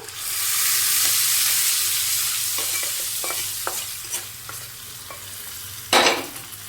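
Steady scraping and stirring of buttermilk curry in a pot, with soft sizzling underneath and a few light clinks of the utensil against the rim.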